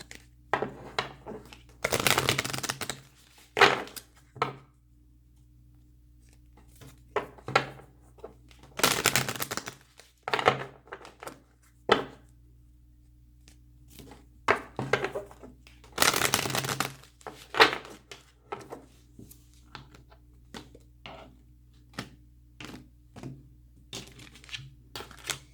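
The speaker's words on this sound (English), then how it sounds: "We will give another quick shuffle." Tarot cards riffled and bridged in several quick shuffles at close range, each a short crisp burst of rapid flutter separated by quieter handling noises and a steady low room hum.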